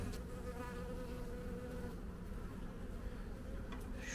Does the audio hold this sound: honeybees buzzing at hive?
yes